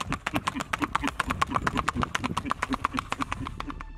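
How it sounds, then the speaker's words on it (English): Rocky Mountain Horse hooves clip-clopping in a steady, quick rhythm of sharp, close strikes, repeating evenly throughout with no one speaking. "Rocky Mountain Horse."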